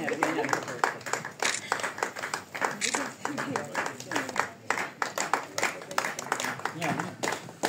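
Dense, continuous clapping from an audience at a one-year programme graduation ceremony during a certificate presentation, with voices mixed in throughout and a steady, busy texture.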